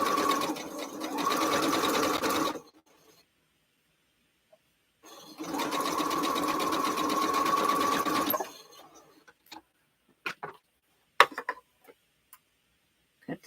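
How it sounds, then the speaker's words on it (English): A sewing machine joins the pieces of a four-patch quilt block in two steady humming runs, separated by silence, followed by a few scattered clicks and taps. "I'll sew the 4 patch together"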